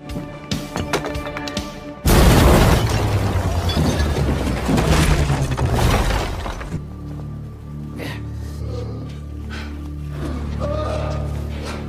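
A sudden loud boom bursts in after a quiet mechanical hum, rumbling and crackling for several seconds before fading into lower machinery drone.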